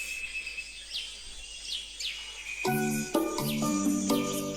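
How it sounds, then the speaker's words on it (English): Several short, bright bird chirps and whistles repeat over a quiet background, followed by a run of clear pitched musical notes that take over the second half. "Let's listen out to all the birds."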